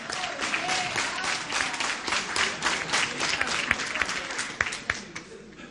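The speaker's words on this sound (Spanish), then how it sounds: "Un aplauso para Héctor" An audience at an Argentine videoconference event applauds a student named Héctor with dense, steady clapping that fills the room, fading slightly toward the end, and faint voices mixed in.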